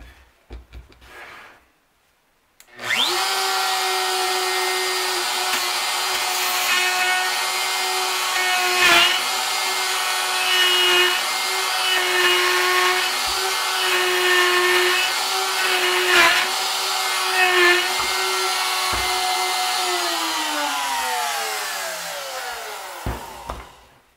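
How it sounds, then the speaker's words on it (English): A router fitted with a straight bit plunges into wood to cut a 3/8 inch hole on a small circle-cutting jig, a steady loud high whine starting abruptly after a brief pause and running about twenty seconds before spinning down. "I'll make a plunge cut again. I've got the slider pushed tight against the fixed part, so I'll make now a 3/8 inch hole."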